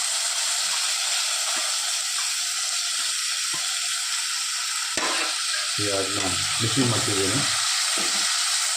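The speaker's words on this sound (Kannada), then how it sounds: "ಈಗ ನೀರುಳ್ಳಿ ಫ್ರೈ ಆಗಿದೆ ಈಗ ಅದಕ್ಕೆ ಟೊಮೆಟೊ ಹಾಕ್ತಿದ್ದೇನೆ" Onions and tomato frying in a pan for a fish sukka, heard as a loud, continuous hiss with stirring, while a voice speaks over the last few seconds.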